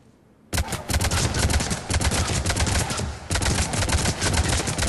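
Avenger assault rifle in Mass Effect 3 fired from the hip in long automatic bursts, loud rapid cracks running almost nonstop with one short break, no talk over it.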